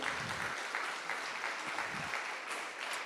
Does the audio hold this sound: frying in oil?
no